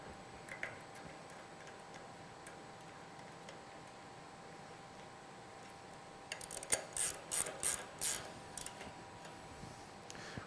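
An air cylinder is being re-secured to the post of a MacNeil RS-701 SuperFlex car wash unit: a quiet hiss runs under a late cluster of small metallic clicks and ticks, faint and close.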